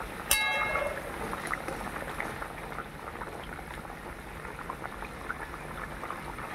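Potatoes boiling in salted water in a covered pot; a sharp clink as the lid comes off near the start, then steady soft bubbling and simmering throughout.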